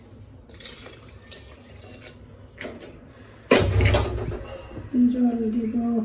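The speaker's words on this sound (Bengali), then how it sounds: "এখন জল দিব এর মধ্যে।" Water poured into a pot of lentils and gourd leaves: a splashing, gushing pour that starts abruptly and runs loud and close for a few seconds, after quieter clinks, with a voice speaking near the end.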